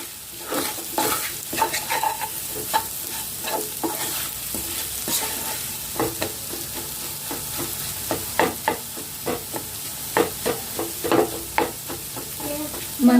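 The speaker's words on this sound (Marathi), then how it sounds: "थोडं थोडं तूप आपल्याला यात घालायचं आहे आणि हे व्यवस्थित भाजून घ्यायचं आहे" Moong dal being roasted in ghee for halwa, stirred around the pan: repeated scraping strokes and a steady sizzle run throughout at close range, with no one speaking.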